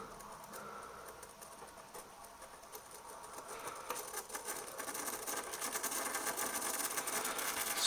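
A cheap small hobby motor with no gearbox, run from a 3.7 volt battery, spins with a faint, steady buzzing whir that grows slightly louder and rougher toward the end, heard alone.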